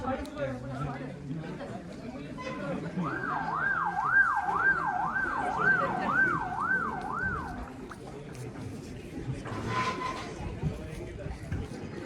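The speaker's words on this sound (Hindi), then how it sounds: "एम्बुलेंस।" An ambulance siren wails in a steady rising and falling pattern for several seconds over busy background chatter, then cuts off.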